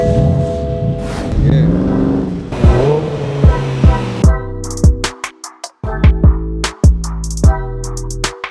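A BMW M4 pulls away, its engine revving in repeated sharp bursts with gaps between them, loud and close, after people talk at the start.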